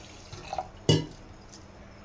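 Toor dal lentils being rinsed in water, with light drips and a few small sloshes, then one sharp splash standing out from the quiet.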